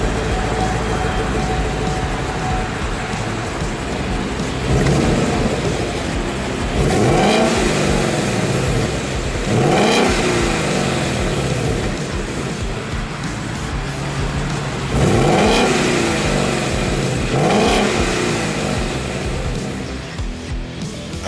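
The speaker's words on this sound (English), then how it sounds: "But startup, revving, acceleration, it does sound like a pretty cool muscle car" A 2015 Mustang GT V8 revving and accelerating, loud and close, with repeated swells of engine speed rising and falling over a steady rumble.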